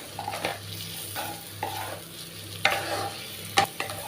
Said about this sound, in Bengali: এবার ভালো করে একটু নেড়ে চেড়ে ভালোভাবে এটাকে কষিয়ে নেব